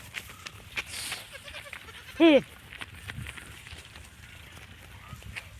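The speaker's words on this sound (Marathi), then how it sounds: "शेळीचे पिल्ले आणि आऊस कसं खेळत आहे" A single short, high bleat rings out from a young goat, standing out against quiet outdoor background noise with faint distant sounds.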